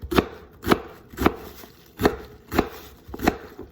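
A knife chopping celery on a cutting board in a hurried cook's kitchen, six sharp, evenly spaced thuds at a steady rhythm, close and alone.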